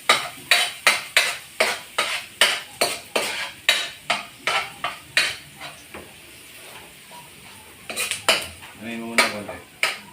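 Garlic and pork sautéing in a pan for bachoy, heard as a steady run of sharp metal scrapes and clanks from a spatula stirring, roughly twice a second, close and loud, with a brief quieter gap and a voice at the end.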